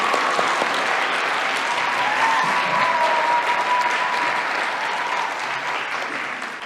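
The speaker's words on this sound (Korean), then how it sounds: "다시 한번 우리 박수로 격려해 주시면 감사합니다." A church congregation at a Sunday service applauds together, a dense, sustained wash of many hands that holds steady and eases slightly toward the end, with a faint voice or tone threading through.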